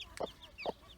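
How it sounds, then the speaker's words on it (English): A hen with her three chicks on a farm gives two quick, soft clucks while thin chick peeps sound around them, faint and close. "We've got a hen with 3 chicks."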